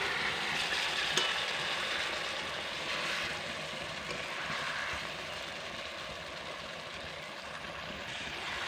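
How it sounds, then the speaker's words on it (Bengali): Ridge gourd and lentil dumplings being stirred in a pan as the water cooks off, a continuous close sizzling hiss with soft scraping movement throughout and no voices. "এবার এইভাবে একটু নাড়াচাড়া করে দেব যাতে নিচে লেগে না যায়।"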